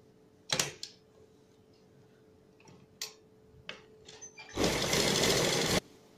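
A sewing machine stitching the waistband casing of a Patiala salwar, a few short isolated stitch bursts and clicks, then a sustained close whirring run of stitching lasting about a second.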